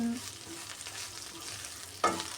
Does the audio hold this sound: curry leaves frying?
yes